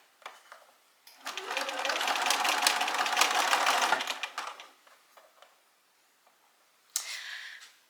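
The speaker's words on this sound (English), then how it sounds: "if you're using a sewing machine for this" A sewing machine runs steadily for about three seconds of straight stitching, then stops; a brief mechanical whir follows near the end.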